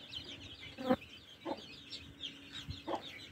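A hen clucks near her chicks on a farm, giving three short, fairly faint clucks spaced about a second apart over a soft outdoor background with other birds.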